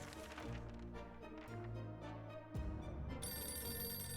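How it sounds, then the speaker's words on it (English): A telephone rings outside in the video game 60 Seconds, a repeated electronic ringing pattern mixed with game music and effects, fairly faint in the mix. "We can clearly hear a phone ringing outside."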